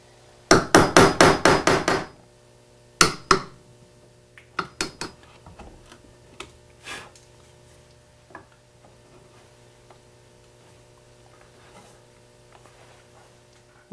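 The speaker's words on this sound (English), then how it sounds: "I have a little bit of work to do with the chisel" Chisel work on wood for an Arts and Crafts panel bed starts with a rapid burst of sharp, loud strikes, then continues as scattered, fading taps in a quiet shop.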